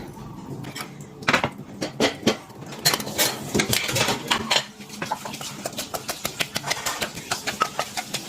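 Star gooseberries being pounded in a mortar for a spicy Thai salad, with repeated close knocks and clatters, a busy cluster early on, then a steady run of evenly spaced thuds.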